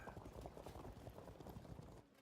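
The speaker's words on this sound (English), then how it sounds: "These are all horse archers." Many horse archers' hooves in the Field of Glory 2 strategy game make a dense, continuous clip-clop of galloping cavalry, steady and fairly loud throughout the short stretch, with no talk over it.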